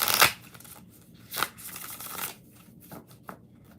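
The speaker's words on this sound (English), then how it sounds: "2 more shuffles." A tarot deck is riffled and shuffled by hand in a few crisp bursts of papery card flutter, close and moderately loud with pauses between.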